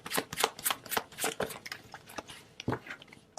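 Tarot cards being shuffled and drawn by hand, a quick series of close, crisp riffling snaps and slaps, then a softer card slid out from the deck, no talking.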